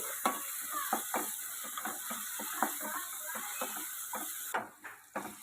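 Ginger garlic paste frying in a pan for a gongura prawn curry, with a steady sizzle and repeated scraping, clicking stirs from a spoon against the pan.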